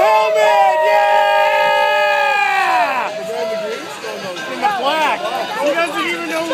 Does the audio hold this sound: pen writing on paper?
no